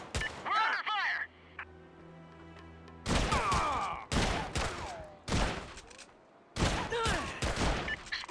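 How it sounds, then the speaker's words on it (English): Gunfire in SOCOM: Combined Assault, loud close bursts of rapid shots in several separate clusters with sharp echoing cracks, broken by a quieter humming pause early on. "We're under fire!"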